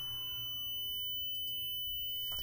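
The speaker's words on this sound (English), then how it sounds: "This feature simply shuts down the laser and sounds an audible alarm if the machine gets tilted more than about 13 degrees while it's running." Tilt alarm on an xTool D1 Pro laser engraver, a loud, piercing continuous electronic tone that holds steady for the whole stretch, with a few faint clicks and a brief rustle toward the end.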